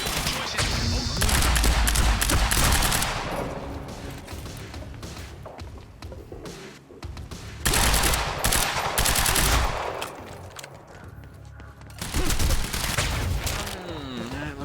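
Heavy automatic gunfire in a firefight from the game Quantum Break, loud sustained bursts with brief lulls between volleys and thuds mixed in.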